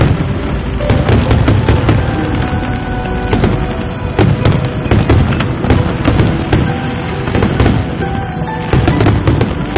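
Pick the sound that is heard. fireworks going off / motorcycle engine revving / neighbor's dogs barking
fireworks going off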